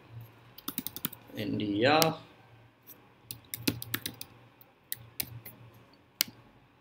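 Typing an email address on a computer keyboard: quick bursts of crisp key clicks in uneven runs, close and clear, briefly interrupted by a short spoken word.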